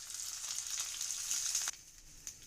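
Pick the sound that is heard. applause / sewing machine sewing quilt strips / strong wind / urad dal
urad dal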